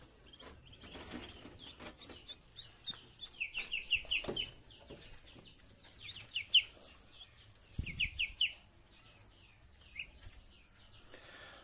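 Day-old Muscovy ducklings, freshly hatched, give repeated high thin peeps in quick bursts over a faint background, with a few soft bumps and rustles nearby.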